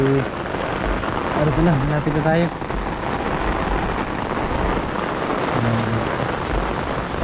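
A dense, steady hiss of heavy rain over rice paddies fills the clip while a person speaks over it near the start and briefly later.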